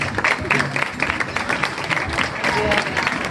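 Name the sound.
applause for the steel band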